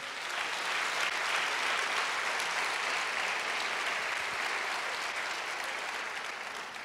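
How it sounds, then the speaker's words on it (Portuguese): Congregation at a Sunday church service applauds in sustained, even clapping that fills the room at moderate loudness, with no voices over it. "Aplauda o Senhor que é digno"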